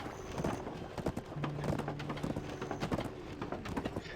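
A donkey's hooves clip-clop in a steady walking rhythm in the Black Desert online role-playing game, fairly faint over a soft ambient game background, with no speech.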